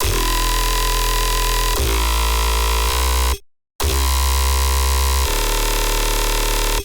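The Acid Scream bass preset on the Faceplant synthesizer: loud, buzzing, distorted sustained bass notes with shifting resonant harmonics, broken by a short gap before resuming, with no voice.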